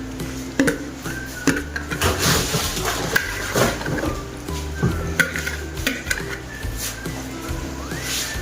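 Russian salad ingredients being mixed in a bowl, with irregular clinks of a spoon against the bowl and soft wet stirring and scraping sounds that run throughout.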